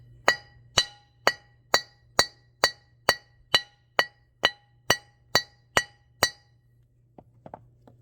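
A hammer strikes metal during trailer repair, about a dozen sharp, ringing blows in an even, steady rhythm, loud and close, then a pause followed by a few faint clinks.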